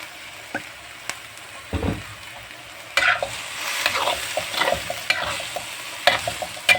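Ground meat stir-fries in a pan with oyster sauce, a soft steady sizzle broken by scraping and clanking spatula strokes at irregular intervals, fairly close and quiet, with no talking.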